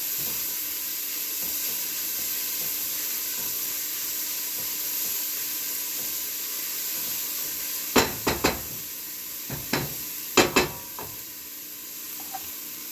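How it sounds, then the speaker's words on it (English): Fava beans and vegetables sauté in a pan with a steady low sizzle, broken in the second half by several sharp clatters of a spoon or spatula scraping and tapping the pan. "And we are going to saute this for a little bit too."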